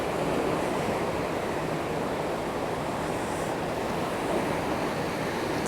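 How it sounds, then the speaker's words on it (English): Small ocean waves break along the shore at Dana Point, California, making a continuous broad wash of surf with light wind across the microphone and no voices. "Waves aren't too big."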